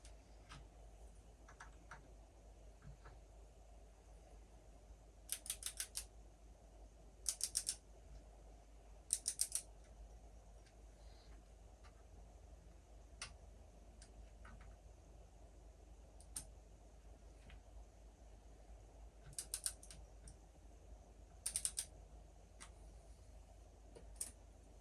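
Small screws on a rifle scope mount being tightened to torque, heard as quiet scattered ticks and a few clustered clicking bursts of the tool against a low steady background hiss.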